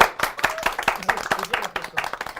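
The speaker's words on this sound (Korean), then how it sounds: "박수 부탁드리겠습니다." An audience at a book concert claps to welcome a guest, a series of sharp, uneven hand claps at moderate distance, with scattered voices talking underneath.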